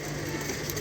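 Malwai pigeons kept in a loft cooing softly, a dense low murmur of several birds close by, continuous for the short moment without clear breaks.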